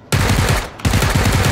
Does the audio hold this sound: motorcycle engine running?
no